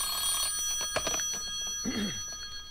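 A telephone rings in a room, a short burst of ringing over a steady background hiss with some faint clatter, no voices present.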